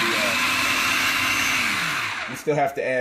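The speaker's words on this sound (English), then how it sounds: "now we're gonna blend a little bit more" Salsa ingredients whirring in a blender, a steady loud motor drone that shifts pitch as the mix spins, then cuts off near the end followed by a short burst of voice.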